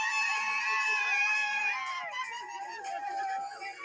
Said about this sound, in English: the white girl cheering and screaming